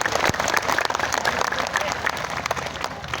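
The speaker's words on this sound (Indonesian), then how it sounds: "Tepuk tangan untuk berbuat lagi Masya Allah." A crowd at a Maulid Nabi gathering in Batam applauds steadily for several seconds, with clapping close and full and some voices mixed in.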